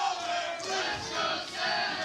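Wrestling arena crowd chanting for Cedric Alexander and Caprice Coleman, a loud massed roar of voices rising and falling in rhythmic waves, filling the hall with no clear single speaker.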